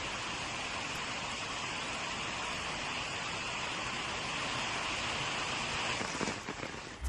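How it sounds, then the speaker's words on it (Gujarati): Heavy monsoon rain pouring down in Gandevi taluka, Navsari, Gujarat, a dense, constant roar, steady and loud throughout with no talking. "ગણદેવી તાલુકામાં ધોધમાર વરસાદ પડ્યો"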